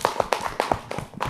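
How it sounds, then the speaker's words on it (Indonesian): Children applaud together at a TPA Quran class, a burst of brisk, uneven hand claps with several distinct sharp strikes close by and little else. "kasih tepuk tangan dulu dong"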